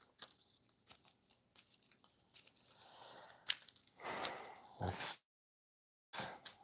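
Cards for the Arkham Horror board game are shuffled, with soft crinkly riffles and taps building into two louder riffling bursts, then a brief silence and a final riffle, all close and quiet.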